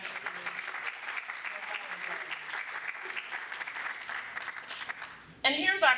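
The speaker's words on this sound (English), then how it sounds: "Thunderous applause," Thunderous audience applause at a state of education event in Oregon, a sustained dense roar of clapping from a large crowd that fades out near the end as a voice begins speaking.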